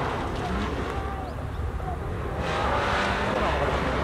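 A Toyota race car runs a gymkhana course at a Kyushu event, its engine a continuous loud roar that swells as it nears, under a commentator's excited announcing.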